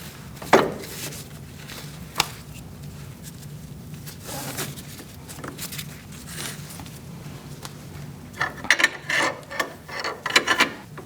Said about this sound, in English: we're going to take our ratchet off